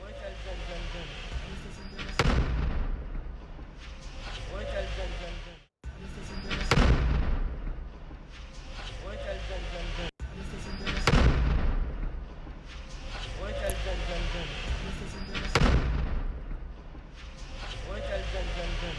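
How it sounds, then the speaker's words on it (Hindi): Oxygen cylinder blasts at a burning baby care centre: several sharp, loud bangs at intervals, each with a booming tail, over a constant crackling and rumbling roar. "विस्फोट की आवाज भी आप सुन सकते हैं।"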